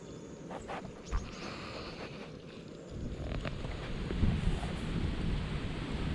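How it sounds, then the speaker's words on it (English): Wind gusting across a river while kayaking on an inflatable Gumotex Twist on the River Ouse near York, a steady rushing roar on the microphone that swells louder in the second half, with faint knocks and water sounds. "the wind is blowing us nicely at the moment"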